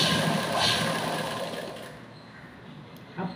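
A sewing machine runs steadily while stitching a round neckline on a blouse, its continuous mechanical whir close and alone, easing slightly toward the end.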